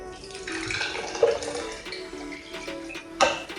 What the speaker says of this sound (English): we're going to add the entire can of coconut milk